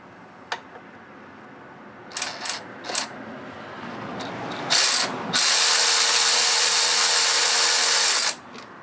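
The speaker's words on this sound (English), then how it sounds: "I'm gonna take the bolts on the bottom out now" Bottom bolts come out of a WR250E motorcycle's front motor mount. A few sharp ratchet clicks are followed by a loud, sustained whirring tool run of about three seconds that stops abruptly.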